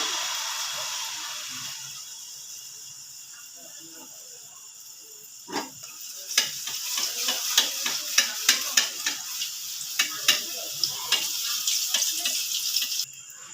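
Palm-fruit muzli poa pitha fritters sizzle steadily in hot oil over high heat, a continuous hiss that later gains a run of sharp clinks and scrapes from stirring or turning.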